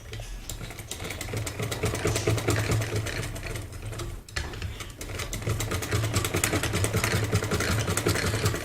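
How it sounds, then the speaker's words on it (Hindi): A sewing machine hums and clatters steadily in a close, even run while stitching around a circular fabric bowl cover, broken by one brief pause before the stitching resumes. "अब हम इसकी सिलाई करते हैं।"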